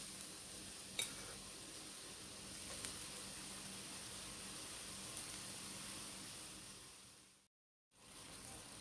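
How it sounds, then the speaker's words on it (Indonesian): Tempeh seasoned with salt and pepper fries in a pan with a faint, steady sizzle and a couple of small pops. Near the end the sizzle drops out briefly, then returns. "Dan sekarang saya akan menggoreng tempenya ya."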